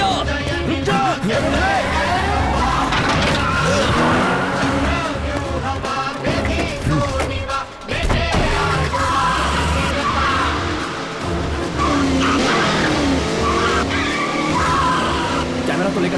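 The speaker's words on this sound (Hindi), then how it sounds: "गाड़ी स्टार्ट कर, चलो" A car in a Hindi-dubbed action thriller chase tears away with loud, prolonged tire squeals and a roaring engine, mixed with dramatic music and shouting voices over the whole stretch.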